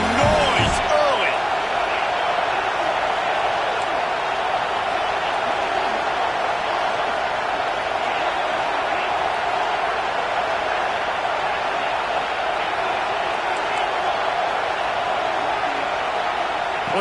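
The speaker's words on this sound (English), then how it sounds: "This crowd bringing the energy and noise early." Stadium crowd noise rises at a college football game, a dense, steady roar of many voices that holds loud and unbroken throughout.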